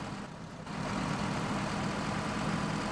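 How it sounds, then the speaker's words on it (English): A Hummer-like military vehicle engine idles in the DayZ Breaking Point game, a steady broadband rumble that swells slightly after the first half second and holds constant. "No, that's some sort of Hummer or some military ship."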